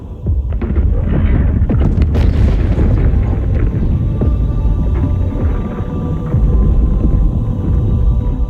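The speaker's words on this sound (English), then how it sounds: "How's the explosion gonna look?" A loud, deep explosion from the Halo Campaign Evolved video game, with a sharp burst followed by a sustained rumbling roar and debris crackle that persists at high level throughout.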